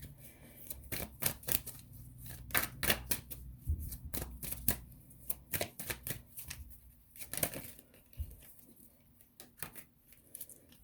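Oracle card deck (Soulful Woman deck) being shuffled by hand, a run of quick papery riffles and slaps in uneven bursts, close and fairly quiet, with no talking.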